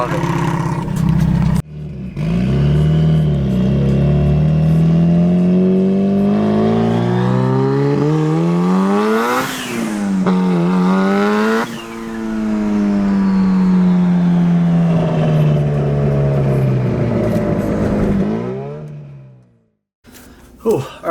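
A 500-horsepower Mitsubishi Evo 8 revs hard and loud for about twenty seconds, its engine note sweeping up and down through several rising and falling pulls before cutting off near the end.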